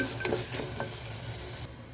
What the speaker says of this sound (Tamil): இதையும் நல்லா கிண்டி விட்டுருங்க